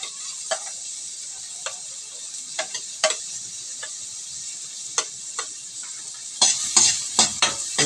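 Chopped onion and garlic sauté in a pan for Bicol-style laing, a steady sizzle broken by sharp scraping stir strokes that grow busier and louder toward the end, with no one talking.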